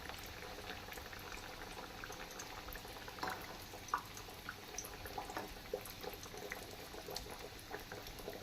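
Matar-stuffed kachori fries slowly in oil over a low gas flame, giving a soft, continuous bubbling sizzle with small scattered pops, close and fairly quiet, with no talking.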